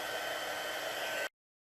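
Heat gun embossing a stamped card, a steady close blowing hiss running alone for just over a second before cutting off abruptly to silence.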